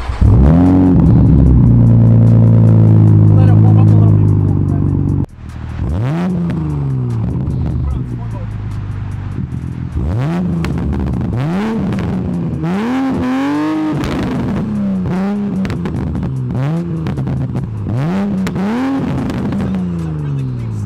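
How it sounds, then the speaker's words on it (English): Toyota Supra fitted with an RK Signature exhaust and AMS catted downpipe revs repeatedly, a steady idle giving way to a series of rising and falling throttle blips, loud and close, with voices talking over it. "I have the RK Signature exhaust paired with the AMS catted downpipe."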